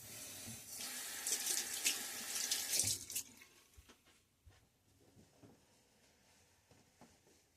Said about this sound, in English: I poured the extra water that had gotten into the crevices on the soap there into the bowl